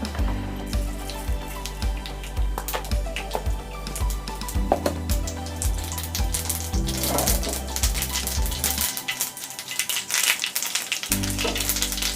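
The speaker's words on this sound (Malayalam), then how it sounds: "എണ്ണ ഒഴിക്കുക, കടുക് പൊട്ടിക്കുക, വറ്റൽമുളക് ഇടുക, കറിവേപ്പില ഇടുക" Steady crackling sizzle of mustard seeds spluttering in hot oil, with rapid irregular pops and a low hum underneath, close and fairly loud.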